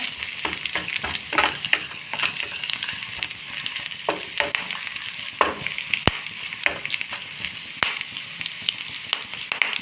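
Small onions, curry leaves and vallarai greens sizzle in a pan, a steady loud frying hiss broken by repeated stirring scrapes and taps.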